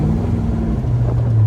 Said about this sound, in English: Motor sounds strong.